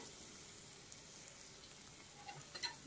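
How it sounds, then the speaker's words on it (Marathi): Green chillies and garlic fry in a pan for a Chinese-style chicken dish, giving a faint, steady sizzle that stays low and even, with a few soft clinks near the end. "थोडी भाजून घेऊया हिरवी मिरची आणि लसूण वगैरे।"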